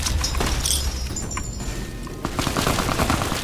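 Video game gunfire rips out in rapid bursts of rounds, sharp cracks in quick succession with brief gaps, loud against a busy mechanical background.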